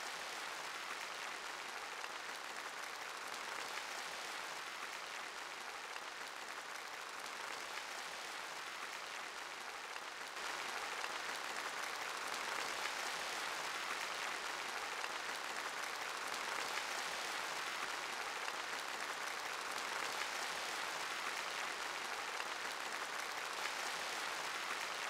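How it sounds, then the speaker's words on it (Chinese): Sustained warm applause fills a large congress hall during a national party congress opening, a dense even clapping from a big audience heard at a distance, steady and unbroken. "全场一次次响起热烈的掌声"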